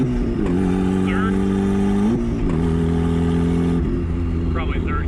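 A turbocharged Mazda Miata pulls hard through its gears, the engine note droning steadily then dropping at a shift before climbing again, loud and close from inside the cabin, with brief turbo whistles and a voice speaking over it.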